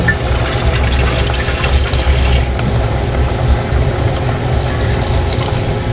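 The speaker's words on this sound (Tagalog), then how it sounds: "Dagdagan po natin ng kaunting sabaw." Broth poured into a pot of sautéed mung beans cooked with smoked fish, chili and broth cubes, giving a steady, close liquid pouring and splashing sound that runs continuously without talk.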